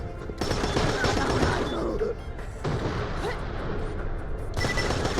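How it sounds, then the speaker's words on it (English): A grenade blast in the shooter video game Borderlands: The Pre-Sequel, a loud, dense burst of explosions and gunfire that cuts out and then rumbles on with further booms, with no talking. "Chucking a grenade."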